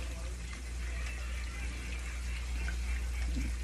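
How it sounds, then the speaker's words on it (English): Heavy whipping cream poured into a pan for rasta pasta, a steady soft liquid stream running evenly for a few seconds against a constant low kitchen hum. "heavy whipping cream. I'm just going to pour"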